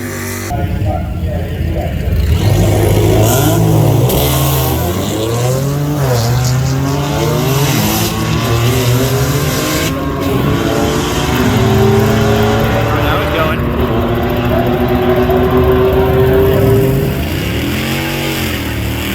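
A drag car on the strip at FL2k launches and accelerates hard, its engine note climbing through rising gear pulls, loud and close, then easing off near the end, with a voice speaking over it.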